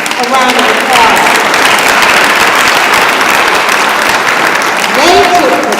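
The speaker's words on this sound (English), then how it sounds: "Let's give them a round of applause." Audience applause for mayoral debate candidates at a 2019 East St. Louis debate, a loud, sustained roomful of clapping with some voices and cheers mixed in.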